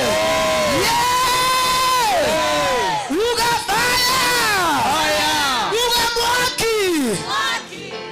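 A church congregation at an Easter service at Kingdom Seekers Glorious Church in Kitengela cheers loudly, with many voices ululating in rising and falling trills, a dense, continuous crowd sound throughout.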